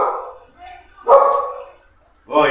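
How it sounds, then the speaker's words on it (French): Dogs bark at home after a doorbell rings, a few loud, close barks and yips separated by short pauses. "puis j'ai les chiens qui aboient et tout le bordel."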